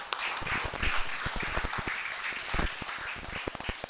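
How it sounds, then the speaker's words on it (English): A round of applause from an audience at a project launch event in Fond St Jacques: lively, uneven clapping with many distinct sharp hand claps close by, and no one speaking. "I feel like she deserves another round of applause"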